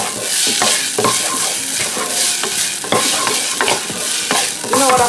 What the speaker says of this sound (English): Add your garlic.